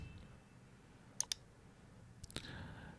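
A mouse clicks twice, then a few more times in quick succession while navigating Windows 11 keyboard settings, crisp and close over a quiet room hum.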